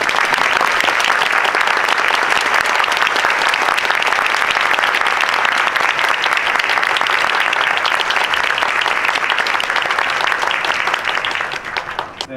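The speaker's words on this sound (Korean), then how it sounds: "두 분 큰 박수로 맞으시면 고맙겠습니다" A packed cinema audience claps steadily for a director and an actress arriving for a film talk event, a dense, loud wash of applause that holds for about twelve seconds before tapering slightly at the end.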